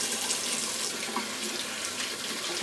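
A Declaration B5 shaving brush is rinsed under a running tap, a steady close hiss and splash of flowing water into a sink with no talk.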